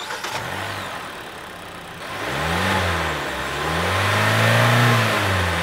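A car engine, just fitted with four new spark plugs, cranks and catches, then revs up and down in several rising and falling surges, loud and close, with no talking.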